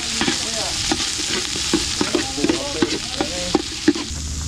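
Onion and garlic frying in a pan, with a steady sizzle broken by repeated scraping stirs and clinks of a utensil in a quick, uneven rhythm. The sound is close and moderately loud.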